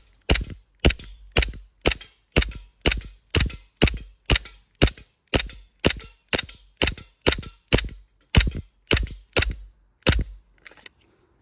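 Rapid string of sharp shots from a WE EU17 Glock airsoft pistol loaded with .28 BBs, about two per second for roughly ten seconds, close and loud, with a faint mechanical click at the end.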